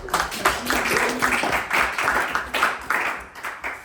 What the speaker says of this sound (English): every time someone finishes, give them a great round of applause